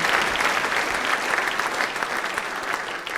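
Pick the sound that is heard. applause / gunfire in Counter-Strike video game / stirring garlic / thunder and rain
applause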